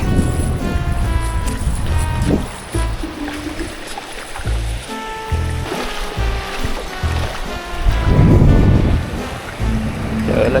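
Sea waves wash onto a fishing shoreline in steady wind, with continuous surf and rushing water filling the scene and a louder wave surge near the end.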